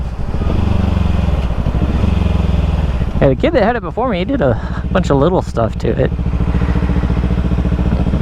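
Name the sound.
Kawasaki Ninja 300 motorcycle engine with aftermarket exhaust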